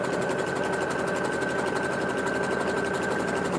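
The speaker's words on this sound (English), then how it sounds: "Put it through the sewing machine, needle down first, presser foot, back stitch, go forward." A sewing machine runs steadily while stitching a seam in wig-making work, a close, fast, even mechanical hum and rapid needle chatter throughout the short stretch, with no talk.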